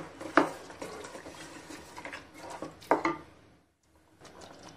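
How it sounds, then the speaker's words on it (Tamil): Thick yogurt is stirred into mutton rogan josh in a cooking pot, with a spoon scraping and clinking against the metal in several strokes, two sharper knocks among them, then a short pause before faint stirring resumes. "இதையும் போட்டு நம்ம நல்லா மிக்ஸ் பண்ணிக்கலாம்."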